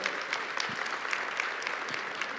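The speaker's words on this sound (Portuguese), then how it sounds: "E para ele uma salva de palmas bem forte." Applause from a congregation at a church service: a short burst of steady, fairly faint clapping from many hands, with no one speaking over it.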